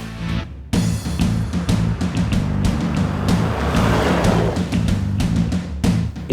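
A Ford Ranger pickup drives off-road over island hills, its engine a loud, continuous close rumble with steady wind and road noise and some rough knocks as it climbs.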